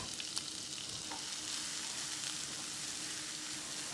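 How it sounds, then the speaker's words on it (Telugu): Onions frying in oil in a pan for an idli tadka, a continuous quiet hiss of sizzling with a few small pops and a faint stir, close and without talk. "కొద్దిగా ఈ ఉల్లిపాయ అంతా సరిగ్గా వేగాలండి"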